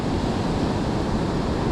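Ocean surf breaks on Toti main beach during a surf casting day, a steady, loud wash of roaring noise with no talking.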